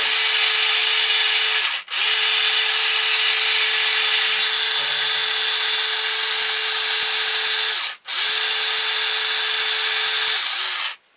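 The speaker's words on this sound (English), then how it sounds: "we want to take our drill and we're going to drill for our screw for the head" A power drill whines loudly at a steady pitch in long runs, drilling a screw hole in wood, briefly stopping twice, close up with no talking.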